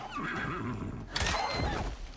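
A horse in the video game Icarus gives a loud, close whinny that rises and shakes, preceded by a lower snorting neigh, with faint hoof movement underneath.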